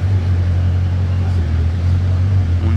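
Deep, steady engine rumble from a hypercar in Monaco, loud and close, a continuous low drone with no clear revving over the few seconds.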